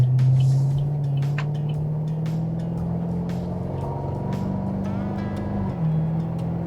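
A Chevrolet Camaro ZL1 muscle car's engine hums low and steady while driving, its pitch holding and then stepping up slightly near the end, heard from inside the cabin without talk.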